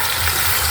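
Water gushes steadily into a cooking pot during an outdoor breakfast under a tree, a close, continuous splashing pour with no talk over it.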